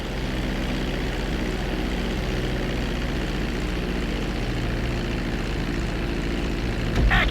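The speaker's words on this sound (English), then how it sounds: "Now let's get the plane off the runway." An airplane in the GTA V flight school rolls down a runway after landing, a constant loud engine and propeller roar with a steady drone that swells slightly at the very end.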